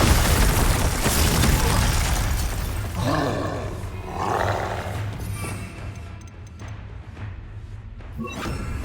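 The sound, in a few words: Confringo and Bombarda spell explosions in the video game Hogwarts Legacy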